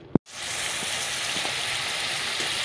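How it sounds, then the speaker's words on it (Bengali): Boiled rice is drained of its cooking water after a single sharp click, and then a close, even rush of water streams out steadily without a break. "চলো ভাতটাকে আগে ছেঁকে নিই।"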